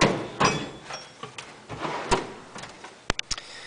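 A metal tool box drawer sliding open or shut, several soft scraping runs followed by a few sharp clicks and knocks near the end, close by and otherwise quiet.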